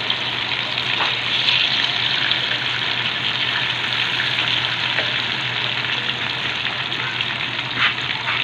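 Water goes into a hot pan of fried tofu and sets off a loud, steady sizzle and rushing hiss that continues without a break, close to the listener, with no voices.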